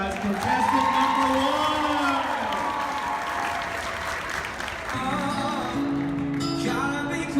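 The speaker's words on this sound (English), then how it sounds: "Give them a big round of applause, guys" A bridal show audience claps and cheers loudly and without a break, with whoops and voices calling out over the dense applause.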